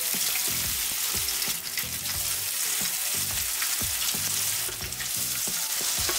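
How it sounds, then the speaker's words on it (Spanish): Zucchini and cheese fritters fry in a hot pan over medium heat, a steady close sizzle and crackle filling the whole stretch, with a few soft scraping touches and no talk. "Dejaremos freír 3 minutos por cada lado o hasta que estén bien doradas"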